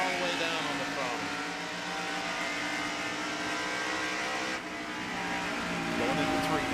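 A NASCAR stock car at Darlington Raceway in the 1990 Southern 500, its engine held at full throttle in a loud, steady drone that climbs slightly in pitch, with a voice talking over it.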